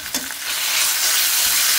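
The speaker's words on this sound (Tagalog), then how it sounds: "Gigisahin natin yung meat." Meat hits a hot pan already browning garlic and sprouts, bursting into a loud, close, steady sizzle after a brief clatter.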